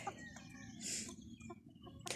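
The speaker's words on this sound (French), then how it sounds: "Bon, sinon au niveau des poules, regardez, ça va, hein, elles font leur bain de poussière." Hens dust bathing in a backyard flock give soft, intermittent clucks and short calls, fairly faint, with light scratching and rustling between them.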